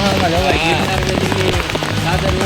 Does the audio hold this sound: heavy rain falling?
yes